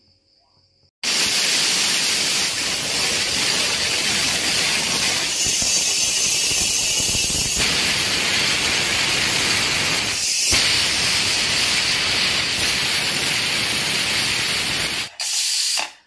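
A pressure cooker whistle shrieks loud and steady for about fourteen seconds, a continuous hiss of escaping steam with a brief break midway, made while cooking khichdi.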